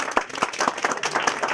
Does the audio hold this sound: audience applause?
yes